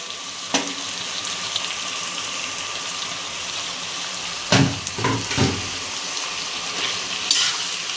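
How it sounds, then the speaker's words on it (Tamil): Green chillies sautéing in a hot pan for a country chicken pepper gravy, a steady close sizzle with a few sharp stir clatters and scrapes near the start and middle. "இதையும் நல்லா கலந்து வதக்கி விட்டுக்கலாம்"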